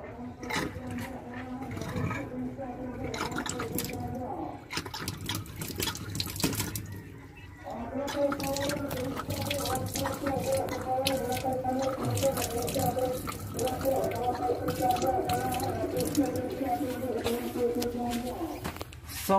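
A house tap runs on a slow, weak supply, water trickling and dripping steadily into a basin while birds chirp and a voice talks over it nearby.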